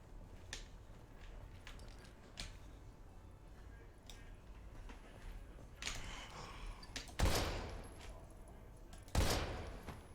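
Two loud, sharp gunshots ring out in the Daymare 1998 video game during a hospital level, standing out from a quiet, murky background with faint thuds and rustles.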